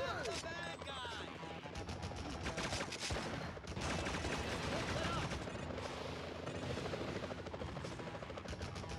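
Missiles and rapid gunfire in the Spider-Man 2000 video game, a continuous loud barrage with a helicopter-like rotor drone beneath, dense bursts throughout, with a voice talking over the chaos.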